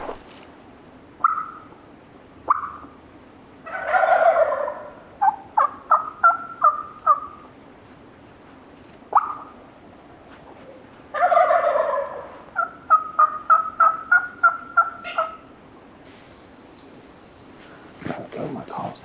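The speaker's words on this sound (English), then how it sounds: "And more gobbling down that way." Wild turkeys gobble from a distance in open country, two separate bursts of rattling gobbles with clipped trailing notes and quiet gaps between them.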